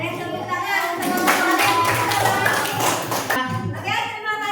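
An audience in a classroom setting claps in a burst of hand-claps lasting a few seconds, with some voices underneath, before it fades to talk.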